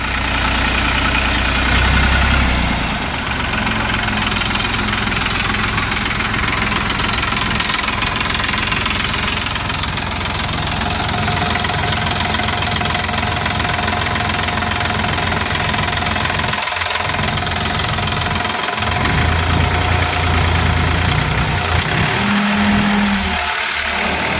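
A 45-horsepower New Holland 3230 TX tractor with a three-cylinder engine runs steadily for a long stretch, a close, knocking diesel chug at idle with no talking.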